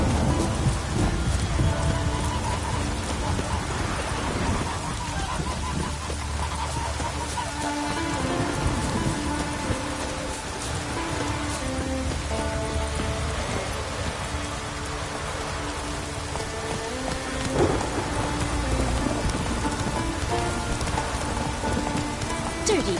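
Steady rain falls throughout a stormy scene in The Witcher 3 on PS5, with low thunder rumbles beneath a dense, constant patter and a background score.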